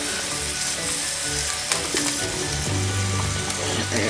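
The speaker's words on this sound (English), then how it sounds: "Add all of those mushrooms to that pan. And I added a whole stick of butter into" Mushrooms and a whole stick of butter frying in a skillet for creamy mushroom chicken and wild rice soup, giving a steady close sizzle with a few sharp pops and stirring scrapes, no voices.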